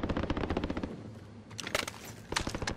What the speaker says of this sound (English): So I just shot someone.